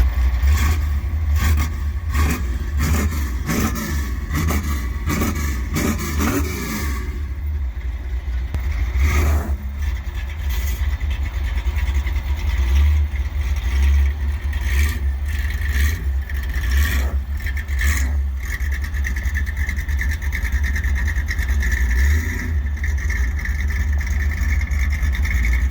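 A truck engine warming up at a Mopar swap meet, running steadily and close by with a strong low rumble, with a few revs and surges early on before settling into a continuous idle.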